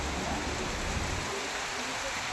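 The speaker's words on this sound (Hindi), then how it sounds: "इतनी तेज बारिश हुई है, ये देखो एकदम तूफानी वाली बारिश आ रही है" Heavy, stormy rain heard from shelter inside a temple, a steady dense hiss of downpour filling the whole clip with no break.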